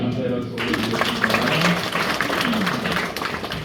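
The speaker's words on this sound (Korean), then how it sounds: "하나님 감사의 박수 올려드리겠습니다." Church congregation applauding in thanks during a Korean worship service, a steady, full round of clapping that holds for several seconds.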